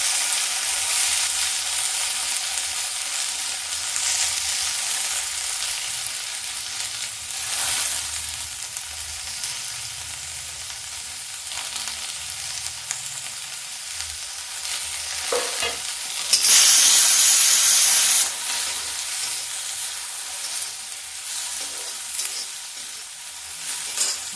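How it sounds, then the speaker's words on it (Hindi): Onion, potato and tomato fry together in a pan, with a continuous close sizzle and repeated stirring scrapes throughout and a brief louder burst of hissing partway through. "देखिए प्याज के साथ में ये आलू और टमाटर ये भी थोड़ा भून जाएगा।"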